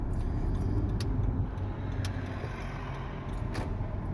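A car hums from inside at low speed with a steady low rumble, plus a few light jingling clicks from the cabin, and no one speaks.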